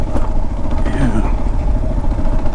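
A Kawasaki KLR650 motorcycle engine drones steadily while being ridden, a dense low rumble mixed with road and wind noise that stays loud and close throughout.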